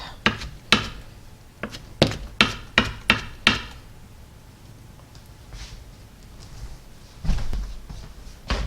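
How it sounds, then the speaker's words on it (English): A knife roughly chopping red strips on a cutting board for a dairy-free tuna noodle casserole: a quick run of loud, sharp thunks, a pause with faint background noise, then a few more chops near the end. "These are just strips, and I'll chop them up kind of rough."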